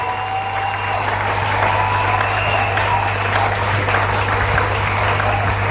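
A church congregation at a revival seminar applauds loudly and steadily for several seconds, a dense sustained clatter of many hands filling the room, with a faint low hum beneath.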